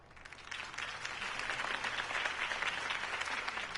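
Crowd applause after Harvey Dent's speech in Batman: The Telltale Series, clapping that swells up from quiet over half a second into steady, dense applause from many hands.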